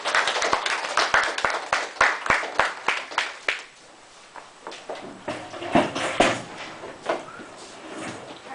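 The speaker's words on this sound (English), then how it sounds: "So if you guys can help me giving her a round of applause." A small workshop audience claps in sharp, separate hand claps, fairly close and loud, thinning after a few seconds and then picking up again in a looser, scattered round.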